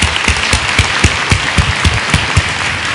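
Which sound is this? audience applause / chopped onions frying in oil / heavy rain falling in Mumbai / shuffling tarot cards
audience applause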